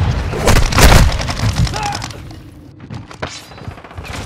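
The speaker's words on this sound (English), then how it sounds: "Stun grenade out!" A stun grenade detonating in Call of Duty: Modern Warfare II, a loud concussive boom with a burst of gunfire around it, then fading into scattered shots and quieter battlefield noise.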